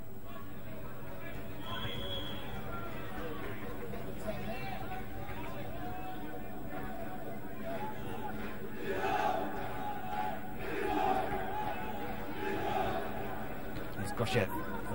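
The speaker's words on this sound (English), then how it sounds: "The home crowd appreciating the talent of the Macedonia sweeper" A home football crowd in a stadium cheers and murmurs steadily throughout a Macedonia–Australia match, with swells of louder cheering near the middle and a sharp burst at the end, broad and distant under a commentator's talk.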